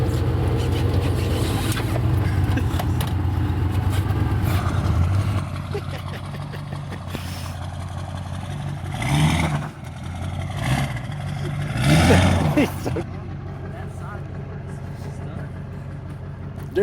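A Duramax diesel truck stuck in snow and gravel, its engine rumbling and revving in surges, loud and close, while people talk over it outdoors.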